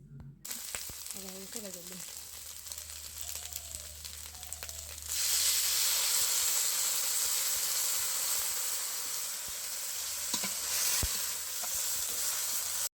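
Snails for a traditional Kochrajbongshi dish fry in a wok, first with a moderate hiss and then with a loud, continuous close sizzle that swells partway through, with occasional clinks of stirring.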